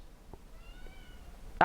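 A pet cat gives a faint drawn-out meow, then a louder, sharper one at the very end, close by in a quiet room.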